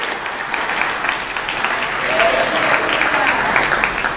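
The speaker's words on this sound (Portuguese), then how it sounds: "Aplauda Jesus" A church congregation at a Portuguese-language evangelical service claps for Jesus, producing a steady wash of loud applause that holds and swells slightly midway, with faint voices mixed into the crowd noise.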